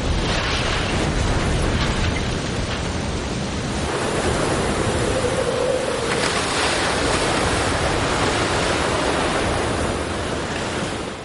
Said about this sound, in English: The hurricane's sheer wind power drives waves from far out at sea, increasing the high tide by as much as 20 feet.